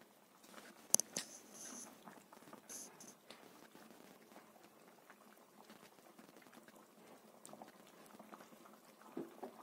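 Fish curry with mustard paste simmering in a pan on a home stove, a soft steady bubbling and popping patter, faint and close, with no one speaking.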